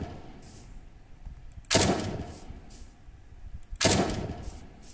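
Two loud gunshots with echoing tails, a few seconds apart, from a weapon in a modded Minecraft game, over quiet background.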